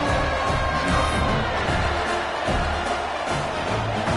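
Steady roar of a college football stadium crowd buzzing after a touchdown in an FCS vs Washington game, a dense continuous wash of voices with no single call standing out.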